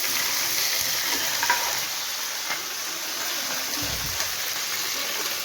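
Ginger hits a hot pan and sizzles steadily while frying, a continuous close hiss with faint stirring scrapes and no talking.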